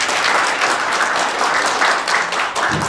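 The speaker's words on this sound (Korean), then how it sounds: "우리 박사님께 다시 한번 뜨거운 박수를 보내주십니다." An indoor audience at a lecture gives a steady burst of applause, many hands clapping continuously and fairly loudly for about three seconds.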